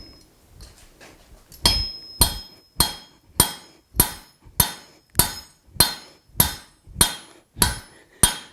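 Hammer blows on hot steel as a blacksmith spreads the jaws of box jaw tongs to 3/8 inch thickness, about twelve loud ringing strikes in a steady, even rhythm after a few lighter taps.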